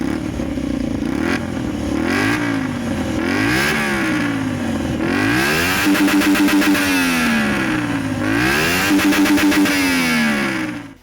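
A Honda Varadero 125 trail motorcycle with a non-stock exhaust revs repeatedly, the engine note rising and falling in several loud, close blips with a rasping mechanical edge, no talk over it.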